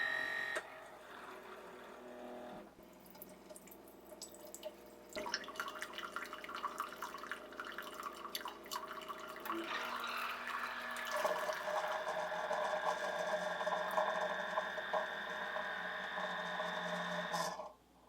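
Keurig K Express coffee maker brewing 8 ounces of water: a pump hum starts, then a steady stream of water pours and trickles into the cup, growing fuller until it stops abruptly at the end.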